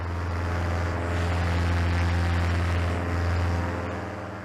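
A paramotor engine drones loudly and steadily as the pilot runs and throttles up for takeoff. The propeller roar holds a constant low hum with no breaks throughout.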